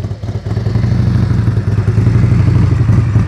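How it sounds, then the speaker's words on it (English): A motorcycle engine during slow-speed riding practice rumbles close by as throttle is added, a steady low pulsing idle rising slightly under load for a few seconds. "His motorcycle started to go right. He gave it some more throttle. Ah, she sounds good."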